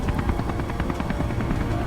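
Helicopter from the video game Beyond: Two Souls, a steady loud rotor thrum mixed into dense action sounds and possible gunfire throughout, with no talk.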